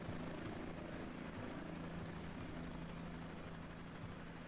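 A civilian helicopter in the game Cepheus Protocol, a continuous whirring rotor drone with faint rhythmic ticks, steady and fairly quiet, no talk.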